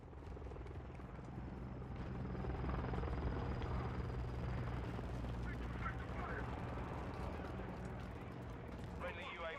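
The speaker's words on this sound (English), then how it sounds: "Hostile Overwatch helo incoming." An enemy helicopter in Call of Duty Modern Warfare 2 thrums as a steady low rotor drone, faint and distant, with scattered gunfire and battle noise and a voice speaking over it.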